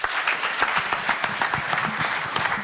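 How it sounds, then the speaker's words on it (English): A crowd at a World MSME Day celebration attended by Kenya's President William Ruto breaks into applause: brisk, closely spaced clapping from many people, steady and moderately loud for a few seconds. "Let's clap for him."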